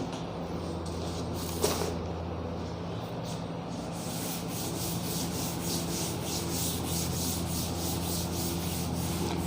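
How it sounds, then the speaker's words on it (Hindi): Writing is rubbed off a classroom board during a physics lecture on fluids, a continuous close scrubbing and swishing that runs for several seconds with a small knock early on and no talking. "देखो इसको रब कर देता हूं।"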